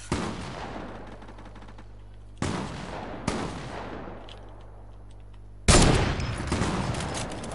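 Pump shotgun blasts in a shooter video game: three or four sharp, loud shots, each with a decaying tail, spaced irregularly with no talking.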